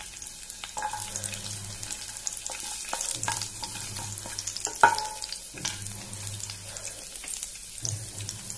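Garlic frying in oil in a pan for a Goan-style egg curry: a soft, quiet sizzle broken by stirring scrapes, clinks and a sharp knock, with a faint running-water sound in the background.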